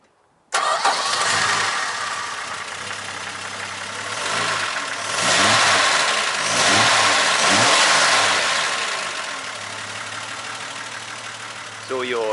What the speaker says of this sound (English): Rattly old Hemi.